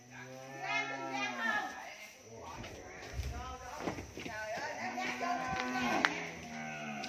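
Cattle on a cow farm in Dong Nai moo loudly and repeatedly, with long drawn-out lowing calls close by and several animals overlapping, mixed with shuffling hooves and nearby chatter.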